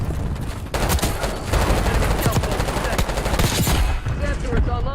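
Heavy, continuous gunfire in Call of Duty Warzone during a hardpoint match, a dense rapid rattle of automatic shots that stays loud and close throughout.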